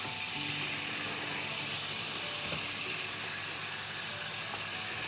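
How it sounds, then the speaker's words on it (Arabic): Chicken pieces frying in hot oil in a pan, a dense, steady sizzle with crackling pops, close and continuous, no voices. "وأقليه بالزيت"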